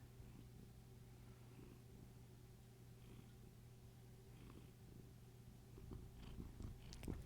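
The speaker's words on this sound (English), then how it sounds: "Don't eat the mic, cat." A cat chews and bites on a microphone up close, producing faint soft crunching and gnawing noises over a low purr-like hum, with a few sharper clicks near the end.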